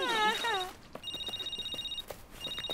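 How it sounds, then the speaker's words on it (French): A cartoon telephone rings with two bursts of a steady electronic trill, with a voice speaking briefly before and over the ringing. "John, il y a le téléphone qui sonne."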